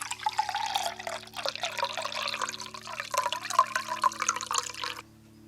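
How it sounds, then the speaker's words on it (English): Cold water is poured into a measuring jug for bread dough, a continuous splashing, trickling fill with a steady low hum in the background, stopping abruptly near the end. "375 millilitres of cold water are going in"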